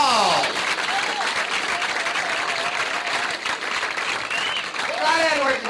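Comedy club audience applauding and cheering as the headliner Rich Hall is introduced, sustained loud clapping from a packed room with whoops, under the host's amplified voice at the start and end.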